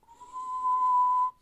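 A tone plug feeding an external preamp input emits a steady, pure test tone, holding one unbroken pitch for over a second at even level before cutting off cleanly.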